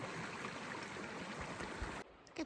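A steady rush of a flowing mountain creek beside a hiking trail fills the air for about two seconds, then cuts out abruptly, leaving a couple of faint thumps.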